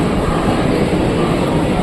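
A suburban train at the Borivali railway station platform in Mumbai. A loud, continuous rumble fills the whole moment, close and unbroken, with no talking over it.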